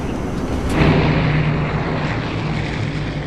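A Douglas DC-6 propeller airliner comes in to land. Its engines give a loud, steady droning roar that swells briefly near the start and then holds constant.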